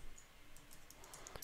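Capital letters being typed on a computer keyboard, a short run of light, quick key clicks that grows denser toward the end, heard close in a quiet room.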